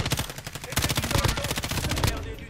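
Rapid automatic gunfire from Call of Duty Warzone, a dense, loud, continuous burst of overlapping rattling shots at a steady fast rhythm that fades slightly at the end.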